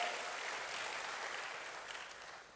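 Church congregation clapping for God during a sermon, a soft, even patter of many hands that slowly fades.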